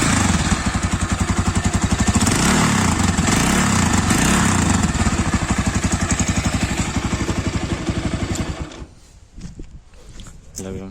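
Falcon Freedom 250cc motorcycle with a holed exhaust muffler runs loud and close, a rough rapid pulsing drone that holds steady for about eight seconds, then cuts out abruptly and leaves only scattered faint noises.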